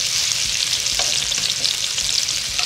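Beef short rib sizzling in a hot frying pan, a dense steady crackle and hiss throughout with faint stirring knocks, close up and with no one talking.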